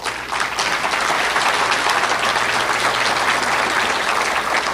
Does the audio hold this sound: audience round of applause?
yes